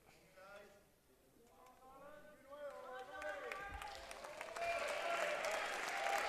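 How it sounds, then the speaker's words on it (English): Football crowd at a Northern Ireland versus Scotland match applauding and cheering, a broad wash of clapping that swells over several seconds into loud sustained roar, with faint whistles and voices mixed in. "Fantastic support from the crowd, as you can probably hear"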